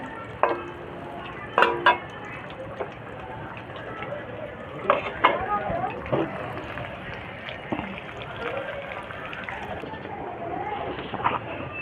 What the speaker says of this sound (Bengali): আলু লাল করে ভাজা হয়ে গেছে, এবার আমি তুলে নিচ্ছি।